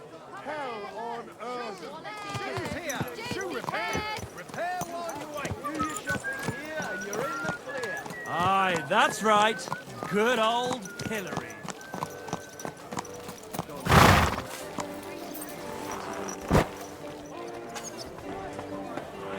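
Horse hooves clip-clop steadily in the medieval game Kingdom Come: Deliverance II, with a short neigh near the end, heard under a background music score while someone speaks briefly.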